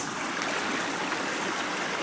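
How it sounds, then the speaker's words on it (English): A spring creek in a wooded glen flows steadily over rocks at a path crossing, a continuous close rushing and trickling of water with no voices. "Here's where the path goes across the creek."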